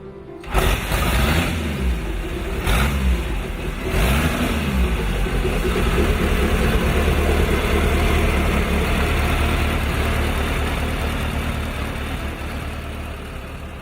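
A vintage Indian motorcycle engine runs close and loud, opening with a few quick revs that rise and fall, then settling into a steady rumbling idle that thumps on for more than ten seconds.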